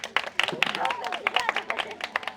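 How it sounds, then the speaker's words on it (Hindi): A group of women clap for themselves at a home-remedy session, quick uneven handclaps over about two seconds mixed with voices and cheering. "अपने लिए तालियां बजाइए"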